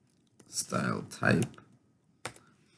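Keys on a computer keyboard click in short bursts while someone talks over them, close and moderately quiet.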